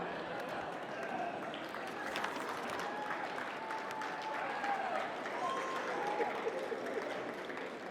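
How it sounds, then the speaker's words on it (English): Applause and crowd noise fill a youth academic award ceremony for a geography competition final, a steady dense wash of clapping that holds evenly throughout with some voices mixed in. "Let's give a big round of applause"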